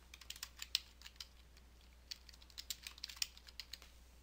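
Keys clatter on a computer keyboard as text is typed into a Microsoft Word 2013 dialog box, quiet, close, irregular bursts of taps separated by a short pause.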